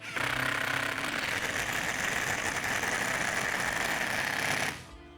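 A Procraft Industrial cordless impact driver on first speed drives a 105 mm lag screw, 8 mm in diameter, as one loud, continuous rattling hammer run that holds steady for nearly five seconds, then cuts off abruptly.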